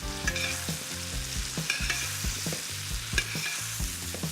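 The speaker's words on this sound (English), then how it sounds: "I'm going to baste with butter." Steak basted with butter, rosemary and garlic in a Stargazer frying pan, a loud close sizzle and foaming crackle broken by rhythmic spoon scrapes and clinks against the pan.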